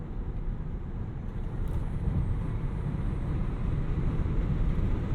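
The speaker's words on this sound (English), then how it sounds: "I do like that buzz and hum of the motors when you rip the gas and you're going really fast" Tesla Model Y Performance electric car accelerating hard at speed, a continuous low rumbling hum of motors and road noise with a faint high whine above, steady and loud inside the cabin, with no talking.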